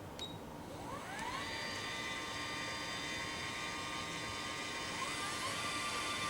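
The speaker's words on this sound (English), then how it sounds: "there you can hear that second actuator kick in" A Permobil wheelchair legrest actuator extends with a faint, warbly electric whine that rises in pitch as it starts, holds steadily, then a second rising whine kicks in over a quiet background hiss.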